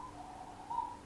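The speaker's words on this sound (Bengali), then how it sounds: "এটা কোন পাখির ডাক, কে শুনতে পাচ্ছ প্লিজ কমেন্ট করো।" A single soft, hooting bird call rises briefly from a quiet background, a faint tonal coo that swells near the end of the short moment.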